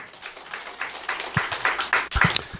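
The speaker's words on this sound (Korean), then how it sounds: "영광의 박수 하나 올려드리겠습니다" A church congregation at a Sunday service claps together in a steady burst of applause, fairly loud and close, without speech.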